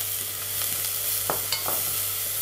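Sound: shallots sweating in olive oil in a pot

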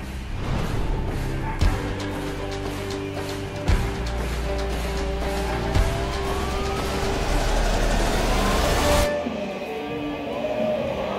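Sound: Tesla Model Y driving onto the reveal stage

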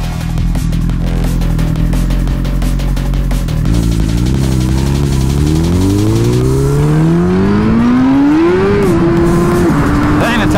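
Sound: Suzuki GSX-R1000R motorcycle accelerating hard, rear tire spinning

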